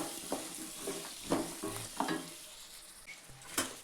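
Green peas and a medium potato sautéing in a pan with a little turmeric, soft sizzling under repeated rhythmic scraping stirs, close and fairly quiet, with no talk.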